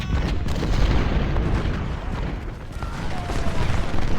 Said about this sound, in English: There's a lot of artillery at this corner, which is, I think, the problem.